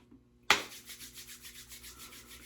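Hands rub briskly together over a wig after a part adjustment, a sharp onset followed by a steady, close, rhythmic swishing friction with no talking.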